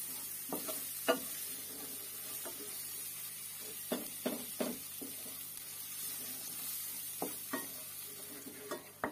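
Rice and red lentils sautéing together in a pot for ezogelin soup, a faint low sizzle with scattered spoon scrapes and taps at irregular intervals, quiet and close, no talk.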